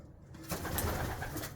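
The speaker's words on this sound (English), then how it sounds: "Those are my new pigeons that I got." Pigeons coo in a pigeon loft of homing birds, a soft, close, rolling coo lasting about a second after a brief quiet start.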